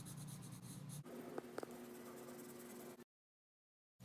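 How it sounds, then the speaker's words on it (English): Faint, steady scratching of watercolor pencil on paper continues for a few seconds, then cuts to silence. "color in your trees using a variety of different brown and green colors or regular colored pencils"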